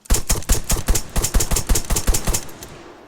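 Gunfire at mines in Arma 3: a steady run of about fifteen close, evenly spaced rifle shots, loud and crisp, with no talking.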